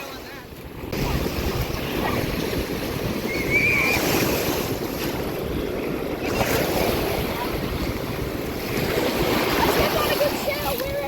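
Ocean waves breaking on a beach, a continuous close roar of surf buffeted by wind noise, with no one speaking.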